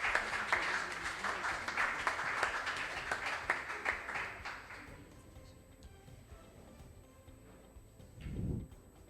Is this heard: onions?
no